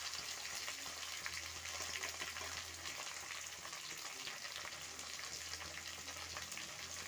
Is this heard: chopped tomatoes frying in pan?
yes